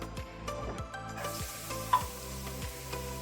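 A finely chopped medium onion frying in hot olive oil sizzles steadily up close, broken by regular scraping strokes of stirring and no voices.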